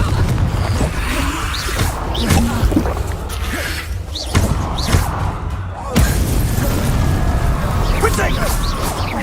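In Hogwarts Legacy, a Confringo spell goes off with a series of booming, crashing impacts and whooshes, while game characters talk throughout.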